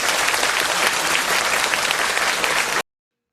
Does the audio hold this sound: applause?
yes